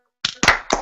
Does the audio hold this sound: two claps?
yes